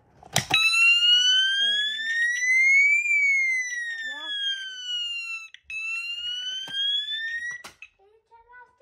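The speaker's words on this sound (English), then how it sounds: "Can you turn off the fire alarm?" A loud electronic fire alarm wails in rising and falling sweeps, briefly cutting out and restarting; a voice speaks a single short word near the end.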